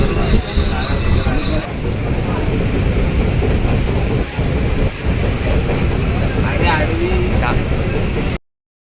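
A passenger train travels along with a loud, continuous rumble of the carriage, with faint rhythmic clatter from the rails.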